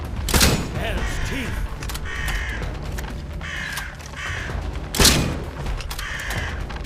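Two loud shotgun blasts from the post-apocalyptic British survival game Atomfall, spaced several seconds apart, each a sharp booming crack over steady game ambience with bird caws nearby.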